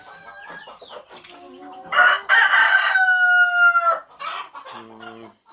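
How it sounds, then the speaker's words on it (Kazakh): Hens and young roosters in a simple home chicken coop, with loud crowing calls and clucking close by, a strained crow rising and sustained for about two seconds amid shorter squawks. "бұл жерде простой үйдің тауықтары және де жаңағы кішкентай қораздар"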